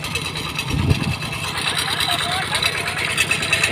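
A boat engine runs steadily at close range with a broad droning rumble, while voices talk over it throughout.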